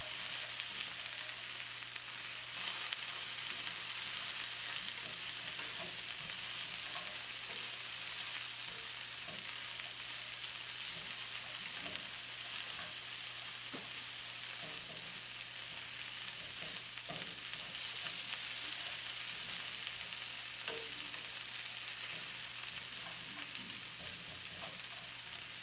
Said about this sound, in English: Mix it around to coat everything in the soy sauce mixture until you feel it's all done.